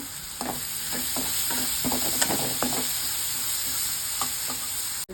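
Chopped onion fries in oil with salt added for palak paneer, a close, steady sizzle with regular scraping strokes of a spatula against the pan.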